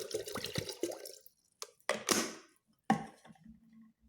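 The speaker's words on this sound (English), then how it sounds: "just pour it into this automatic electric kettle" Half a liter of water poured into an automatic electric kettle, heard as a few close splashing pours and gurgles separated by short silences, ending in a brief hum.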